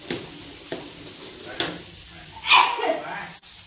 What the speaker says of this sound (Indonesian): Tunggu sambil mendidih.